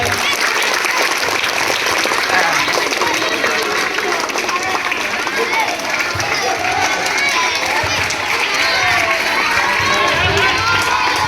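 Steady, loud applause and cheering from a crowd at a school annual sports and prize-distribution event, as a class 2 girl is called on stage to sing, with children shouting and chatter mixed into the continuous roar.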